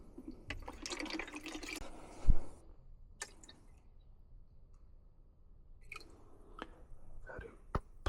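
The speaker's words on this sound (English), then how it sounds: "I got some water. Trying to see if this tubing is stopped up or if it's the pump." Water poured into condensate pump tubing on an HVAC unit makes faint splashing and trickling, with sparse clicks and drips over quiet background.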